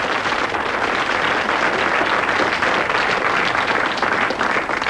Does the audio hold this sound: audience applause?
yes